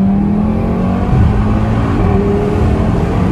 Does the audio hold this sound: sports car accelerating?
yes